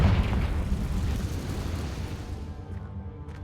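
A fiery Confringo spell blast from the game Hogwarts Legacy erupts loud and close, a deep rumbling explosion that rolls on and slowly fades away over a few seconds.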